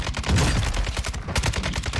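Gunshots fired at an enemy sniper in the video game Warzone 2: a rapid burst of sharp, punchy reports in quick succession, loud and close, over steady game ambience.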